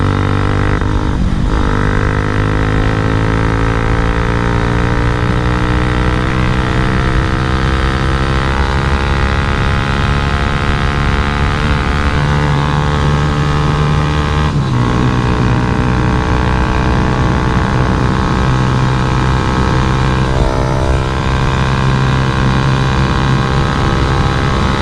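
A Bajaj Pulsar 220F motorcycle with over 100,000 km rides along the road, its engine droning loud and steady throughout with wind noise, pitch shifting slightly as the rider changes speed and gear.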